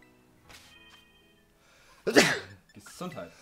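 A single loud, sharp sneeze bursts out in the middle of a quiet stretch, with faint video game tones and a short voiced sound just after.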